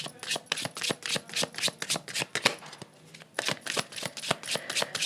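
A deck of tarot cards is shuffled by hand in quick, rhythmic bursts of crisp flapping and slapping, close up, with a brief pause in the middle before the shuffling resumes.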